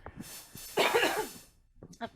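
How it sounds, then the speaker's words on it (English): A woman coughs, with a few short throat-clearing sounds first, then a loud harsh burst of coughing near the microphone, and a small final cough after a brief pause. "I got a cough."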